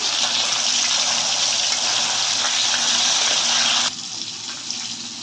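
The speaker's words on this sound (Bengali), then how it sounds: "তেলটা গরম হয়ে গেছে আস্তে আস্তে আমি মাছগুলো এর মধ্যে আস্তে আস্তে ছাড়ছি" Pieces of rohu fish frying in hot oil give a loud, dense, hissing sizzle that holds steady and then drops off sharply near the end.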